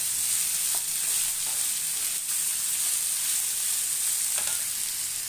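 Ingredients for a South Indian style chicken gravy fry in a pan with a dense, unbroken sizzle, broken by only a few faint spoon scrapes, close and steady throughout.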